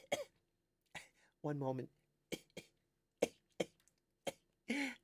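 During a live stream, a person gives several short, sharp coughs and throat clears spaced across a few seconds, close to the microphone, with a brief spoken phrase in between.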